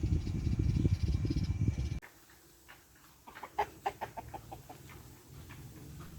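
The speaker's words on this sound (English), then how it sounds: "The flock of chickens returned first." Soft clucking and murmuring from several chickens returning home in rural Vietnam, scattered and mid-distance, after a few seconds of low rumbling noise that stops abruptly.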